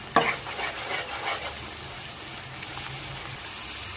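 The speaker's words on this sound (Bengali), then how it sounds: "এখানে আমি তিন থেকে চার মিনিট ধরে পেঁয়াজটাকে মিডিয়াম ফ্লেমে ভেজে নিচ্ছি" Onions frying on a medium flame hiss softly in a pan, with a sharp spoon clank at the start and a few brisk stirring scrapes early on before settling into a low, steady sizzle.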